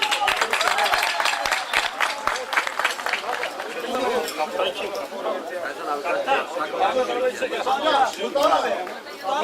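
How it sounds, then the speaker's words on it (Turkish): Picnic crowd applauds the tournament runner-up, sharp individual claps at first that blend into clapping mixed with loud chatter and voices from the gathered people. "Yine kuvvetli alkışlarınızla."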